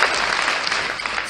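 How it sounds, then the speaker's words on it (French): Applause from an audience at a live music show, dense steady clapping throughout at close range with no talk over it. "des applaudissements, s'il vous plaît."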